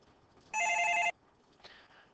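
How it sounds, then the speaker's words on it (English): A telephone rings once in a short, bright half-second burst during a maths lesson, fairly faint against a quiet room. "my phone's ringing"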